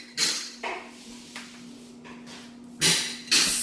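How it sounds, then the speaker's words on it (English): Floor laying work in another room of a house produces scattered knocks and thuds, some sharp and some dull, spaced unevenly over a faint steady hum, with no voices. "Excuse the noise. We're laying floors in the other room."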